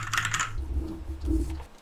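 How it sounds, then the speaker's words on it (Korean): Keystrokes on a mechanical office keyboard clatter close up, a quick cluster of bright clicks at first, then softer, deeper thumps, alone without talk. "기계식 키보드는 원래 경쾌한 타건감으로 인기 있는 키보드지만 조용한 사무실에서는 소음이 커서"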